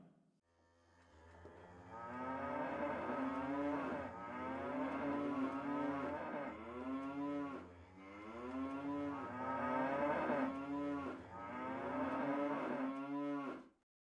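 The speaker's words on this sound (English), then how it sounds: "let's check in on those Welsh cows one more time." Welsh cows mooing in long, drawn-out bellows, several overlapping calls in a row that swell and fade, fairly close and clear with no talking.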